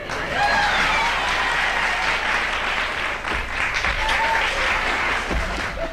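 Studio audience applause on a 1970 television talk show, a steady, dense wash of many hands clapping at full volume for the whole stretch, with faint voices buried underneath.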